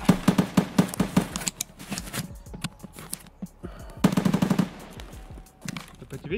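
Automatic gunfire in the shooter game Escape from Tarkov: a rapid burst early on, scattered single shots, then a second sharp burst midway, fairly close and loud against quiet gaps.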